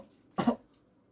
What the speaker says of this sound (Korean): 전도사님이 기침을 했는데요